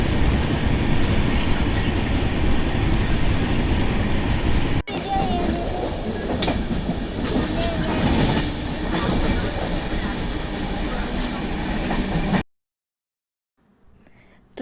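Inside a moving train carriage, a steady rumble of wheels on rails with faint rattling carries on for about twelve seconds, then cuts out abruptly into near silence.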